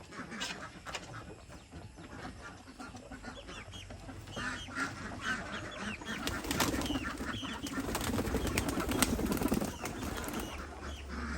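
Pigeons kept inside a chicken coop coo and flutter their wings in a busy, continuous mix that grows louder and denser toward the end.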